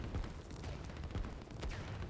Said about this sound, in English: they sound like little firecrackers, pardon me, when their machine guns are going off